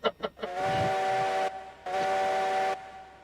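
Heisler steam locomotive whistle in the Railroads Online video game: after a few short chuffs, two long, loud, harmonic blasts, each about a second long, separated by a brief gap.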